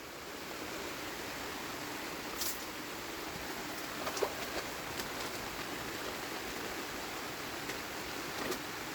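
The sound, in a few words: heavy rain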